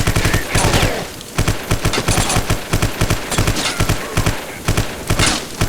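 An M16 rifle fires in the shooter video game Vivisector: Beast Within, loud repeated bursts of shots in a steady rapid rhythm, close and continuous.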